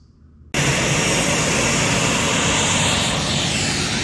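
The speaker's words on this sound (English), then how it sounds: "Get a real airplane, buddy, a Challenger." A Bombardier Challenger jet's engine roars in close and loud, starting abruptly after a quiet moment and holding as a steady, broadband whine and rush with no voices.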